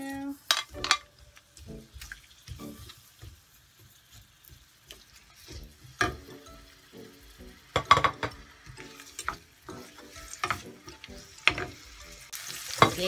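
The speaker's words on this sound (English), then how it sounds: "Okay, I'm gonna saute our onion now." Onion sautéing in a pan for a Filipino squash and coconut milk dish: a soft steady sizzle under frequent clinks and scrapes of a utensil stirring against the pan, close and moderately quiet.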